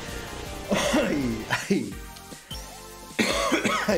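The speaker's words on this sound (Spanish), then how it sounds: "Ay, que me da la tos." A man coughs in several harsh, close bursts, breaking into throat-clearing hacks between them during a gameplay session.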